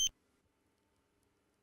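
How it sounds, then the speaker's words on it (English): Dräger X-am 2500 portable gas detector sounding its alarm: two short, bright electronic beeps, one at the start and one at the end, separated by near silence. "audible, visual and vibration alarms are also periodically repeated"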